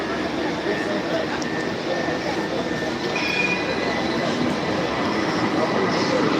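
An Istanbul tram rumbles in nearby with rolling wheel noise and thin metallic squeals, the steady roar building slightly as it arrives.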